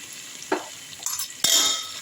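Ginger garlic paste sautés in hot oil in a pan, giving soft sizzling with a few sharp stirring scrapes and spoon clatters spaced through a quiet kitchen.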